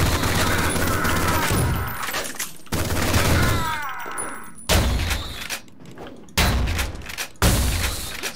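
Rapid bursts of weapon fire from the retro first-person shooter Ion Fury, loud and dense, with several volleys broken by short pauses and sharp thudding impacts.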